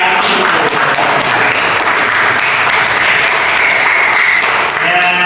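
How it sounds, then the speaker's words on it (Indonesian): A classroom audience claps for a student group that has just finished its presentation, a dense steady wash of applause lasting throughout at close range with no talk over it. "kita kasih aplaus dulu untuk semangat"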